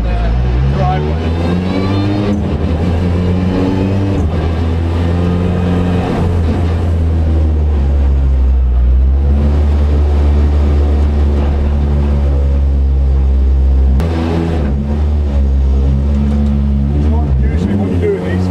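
A World Rallycross rally car drifting around a residential driveway, its engine roaring loud and steady with pitch rising and falling as it revs through the slide, under continuous talk.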